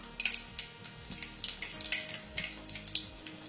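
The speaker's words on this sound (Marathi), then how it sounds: "असे तडतड आवाज आला पाहिजे मोहरी टाकल्यावर, म्हणजे फोडणी चांगली बसते" Mustard seeds crackle and pop in hot oil in a kadhai while tempering for a soya masala, with a steady run of sharp, close pops over a soft sizzle and no talk.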